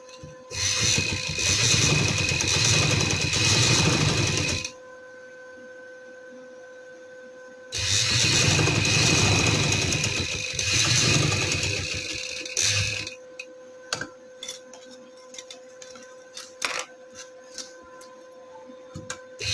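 An electric sewing machine stitches a neckline on a garment in two long steady runs of rapid mechanical whirring, separated by a pause with a faint hum, followed by scattered clicks and handling noises.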